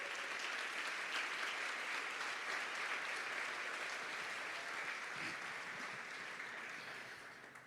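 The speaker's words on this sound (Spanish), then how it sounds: "aplauda al Señor si lo va a aplaudir" A church congregation applauds in a dense, even wash of clapping that holds steady from start to finish and fades slightly at the end, with no voice on top.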